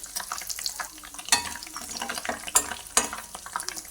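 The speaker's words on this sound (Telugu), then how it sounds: "నూనె కొంచెం వేడైనాక ఈ గరం మసాలాలు మొత్తము వేసుకుందాం." Whole garam masala spices frying in hot oil, a close, irregular crackle of pops and spits over a soft sizzling hiss.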